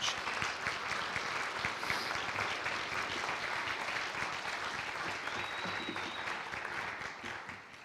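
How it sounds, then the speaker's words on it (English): An audience at a university Three Minute Thesis competition applauds the contestants on stage, a sustained even wash of clapping that holds steady and tapers slightly near the end. "And a big round of applause for everybody on the stage."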